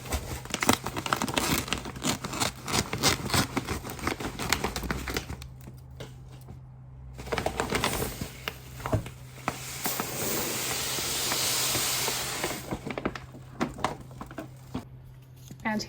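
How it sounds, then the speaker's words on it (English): A plastic bag of fine-grain cat litter crinkling as it is cut open with scissors, followed by a steady hiss of litter being poured in, close and loud with a low hum underneath. "So I'm just going to get some scissors and cut this and pour it in."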